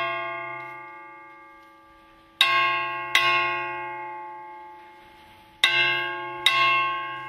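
An old steel rail hangs as a church bell on Makatea and is struck four times in two pairs. Each strike rings out loud and metallic, then leaves a long, sustained, slowly fading ring.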